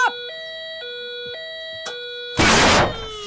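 A cartoon alarm clock set for milking time rings out as a steady, repeating two-tone electronic beep, then breaks into a brief loud burst of clattering ringing near the end.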